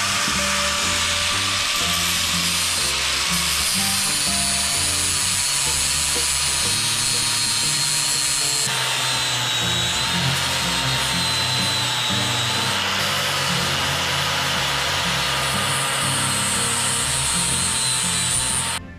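A power tool grinds and carves into wood for a frame, a loud continuous whine with shifting pitch as it cuts, alongside a low rhythmic background beat, with brief changes in load.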